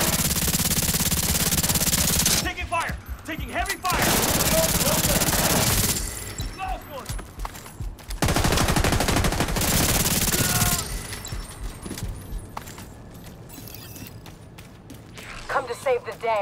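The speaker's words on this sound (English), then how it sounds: "Taking heavy fire!" Heavy, sustained gunfire in The Division 2: long, loud automatic bursts alternate with sharper clattering stretches. A voice talks at points under the shooting.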